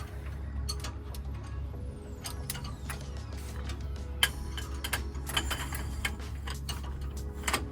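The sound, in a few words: torque wrench tightening wheel hub bolts on Ford F150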